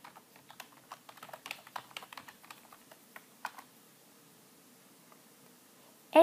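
Fast clicking keystrokes on a computer keyboard entering a MySQL command, a quick irregular patter that thins out and stops, with a single louder tap at the end.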